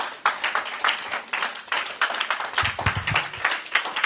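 Church congregation clapping for Jesus, uneven individual claps close by with a rhythmic, loosely synchronized pattern, fairly loud, some low thumps midway.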